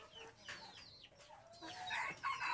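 Female red junglefowl cluck in short, scattered calls mixed with other bird chatter, faint and somewhat distant in an outdoor setting.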